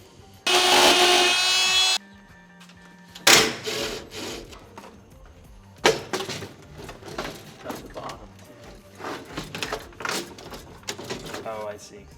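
A power drill with a hole saw bit bites into wood during a Miata dash install, a loud whirring cut up front, then scraping and handling noises as people talk nearby.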